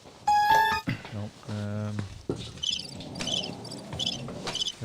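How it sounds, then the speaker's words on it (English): Crickets chirp in repeated high pulses during a live woodworking question-and-answer stream, coming in after a loud tone and a stretch of talk and continuing steadily under some background sound. "There's the crickets."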